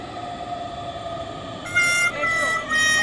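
A metro train pulls into a station and sounds a loud, sustained horn with several steady tones partway through, set against the continuous hum of the platform.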